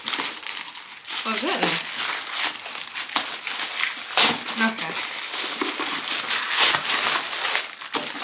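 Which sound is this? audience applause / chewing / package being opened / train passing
package being opened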